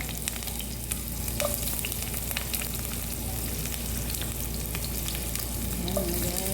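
Garlic sautéing in a pan for chicken soup with vegetables, a steady close sizzle and crackle running throughout with a few faint scrapes, no voices.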